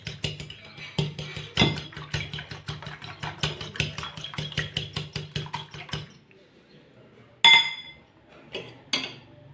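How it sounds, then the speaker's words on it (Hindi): Eggs beaten briskly in a bowl, with rapid, even clinks of the utensil against the sides for about six seconds. Then a pause and a few louder, isolated knocks, all close up with no talking. "बहुत अच्छी तरह से बीट कर लीजिए इनको।"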